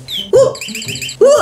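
A flying bird toy sounds a burst of quick, repeated electronic chirps, close and fairly loud, between short exclamations from a person.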